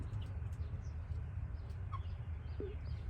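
A golden-eagle-type hen gives a few soft clucks over steady low background noise, with a short higher call near the end.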